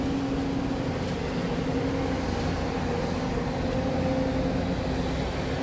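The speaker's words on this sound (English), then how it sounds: "That noise is a generator from Sunset." A generator runs somewhere in a storm-damaged seaside area, a steady, even hum with a faint tonal drone that holds constant for several seconds under a broad wash of background noise.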